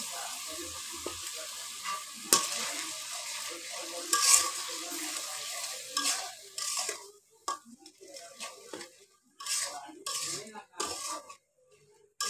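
Pumpkin curry base frying in a pan after turmeric, salt and chili mixed in water are poured in, giving a steady sizzle with clinks and scraping of a spoon against the pan, fading into intermittent stirring.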